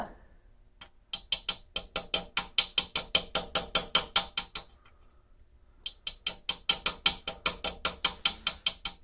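A hand file works a burr off metal while a blacksmith makes a touchmark, giving two runs of rapid, evenly spaced rasping strokes, sharp and close, separated by a short quiet gap.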